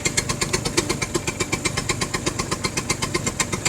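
A scooter engine idles close up and loud, thumping in a quick, steady pulse with a slightly uneven beat and no voices over it.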